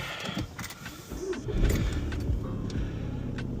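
A car engine cranks and starts, building into a low rumbling idle amid faint clicks and interior handling noises, close and steady with no one speaking.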